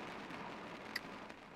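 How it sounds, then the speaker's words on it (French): Steady rain falls on a landscape outdoors, a soft even hiss with a faint drip or tap near the middle, alone without voices. "ça n'arrête pas de pleuvoir, toujours"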